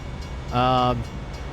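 A train rolling past a railroad crossing in American Truck Simulator sounds out as a sustained harmonic tone, like a horn or whistle, rising for about half a second in the middle of steady background rumble.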